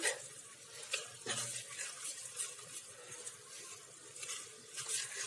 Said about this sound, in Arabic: في المرحله دي بقى هبدا ان انا استخدم السباتشوله كده عشان